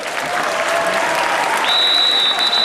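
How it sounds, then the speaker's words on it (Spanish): Loud, sustained applause from a crowd at a Galician scout festival, a dense wash of many hands clapping continuously throughout, with a faint whistle-like tone in the background. "me gustaría que fuese recibido con un fuerte aplauso"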